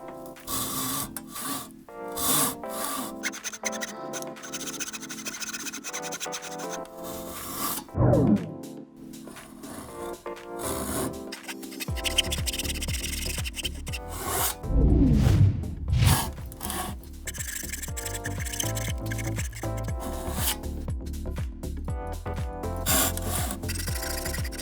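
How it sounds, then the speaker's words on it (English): Japanese kataba pull saw cutting through wood for a trestle-style elevated planter box, giving a steady run of rasping strokes that carry on for the whole stretch, close and moderately loud with no talking. "and then cut on that line with a kataba"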